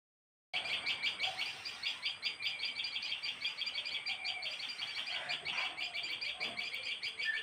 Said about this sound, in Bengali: আর এত সুন্দর পাখির ডাক।